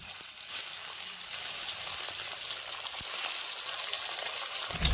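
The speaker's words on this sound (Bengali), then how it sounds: "এবারে একে একে মাছগুলিকে দিয়ে ভেজে নেব।" Rupchand fish frying in hot mustard oil in a kadai, a steady close crackling sizzle that holds evenly throughout with a few sharper pops, no talking.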